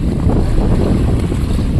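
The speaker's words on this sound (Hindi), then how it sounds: "इधर इतनी हवा चल रही है" Strong gusting wind roars steadily on the Godavari riverbank during a fishing trip, loud, dense buffeting against the microphone with no voices.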